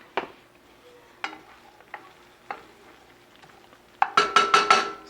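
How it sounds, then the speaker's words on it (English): Flour and butter stirred into a white roux in a pan, sparse soft scrapes and taps of a utensil, then a quick burst of louder clattering strokes near the end, close by with no talk. "until it's all stirred in really good and all combined"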